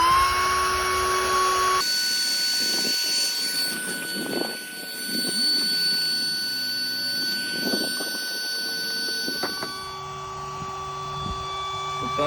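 An electric air pump drones continuously while inflating an Intex Mariner inflatable boat, a loud, close motor hum with a few bumps and handling noises, its pitch shifting slightly midway.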